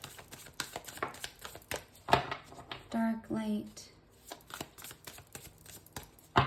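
Tarot cards riffled and shuffled in a few short bursts, close and crisp, with a voice speaking briefly between them.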